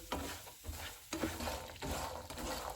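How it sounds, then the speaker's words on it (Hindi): Makhana (fox nuts) frying in a pan are stirred with a quiet, repeated scrape and rattle over a faint sizzle. "मखाने फ्राई करेंगे, इनको 2 से 3 मिनट तक फ्राई करेंगे"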